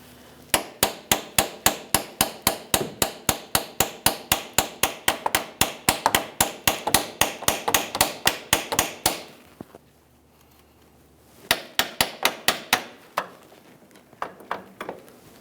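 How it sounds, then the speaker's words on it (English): Rapid, evenly spaced metal hammer strikes on locking pliers ring out close up, dozens in a row, freeing a transmission cooler line on a 2002-2009 Chevrolet Trailblazer, then a short pause before another quick burst and a few scattered taps. "We'll grab onto the line, use a hammer, and give that a couple loving bonks to break this free."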